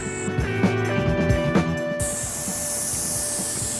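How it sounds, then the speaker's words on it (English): A steady, loud aerosol hiss starts midway and continues, after a stretch of scraping and handling noises, as spray is applied onto plastic on a work truck. "Spraying this on this plastic before we spray anything else is gonna help it all stick"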